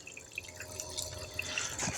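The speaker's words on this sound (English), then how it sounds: "got the water flowing" Water runs and drips steadily at close range from a Black Scorpion table, a continuous splashing trickle with brighter droplet spatters throughout.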